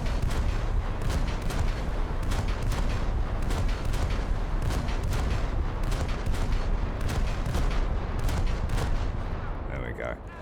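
Naval guns of the USS Dealey frigate firing in a War Thunder sea battle: loud, rapid repeated gunshots in a dense rhythmic barrage, easing off in the final second.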